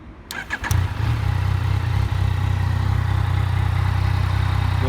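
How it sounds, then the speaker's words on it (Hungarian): A 2018 Yamaha Tracer 900 GT motorcycle engine cranks briefly with a few starter clicks, catches almost instantly and settles into a loud, steady close-up idle that runs to the end with no talk. "Nagyon tetszik ebben a motor, hogy egy pillanat alatt indul."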